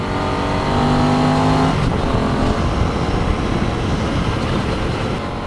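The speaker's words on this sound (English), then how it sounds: "As always, this MT07 engine just is a gem." A Yamaha MT-07 motorcycle engine on the move, droning loud and close with a steady tone that shifts pitch partway through, then settles into a rougher, broadband running roar.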